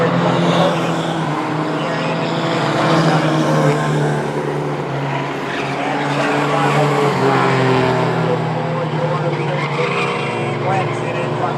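Mighty Trucks racing at Star Speedway, a steady loud roar of several engines with harmonic whine and tire skids, under continuous announcer talk.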